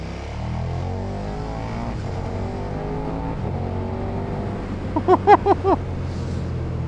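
KTM 1290 Super Duke R motorcycle engine droning at a steady pitch that rises and falls slightly under wind noise, with a few short sharp bursts near the end.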